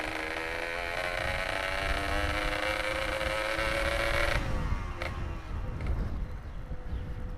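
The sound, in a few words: Yamaha RX King motorcycle engine while riding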